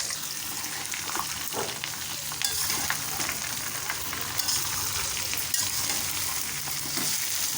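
Half-boiled mango is tipped into hot oil already frying panch phoron, dried chilli and mustard paste for a sweet-sour mango pickle. A steady close sizzle continues throughout, with stirring scrapes and no talk.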